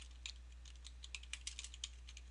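Quick, light keystrokes on a computer keyboard, about a dozen close clicks in an uneven run over a steady low electrical hum, with no talking.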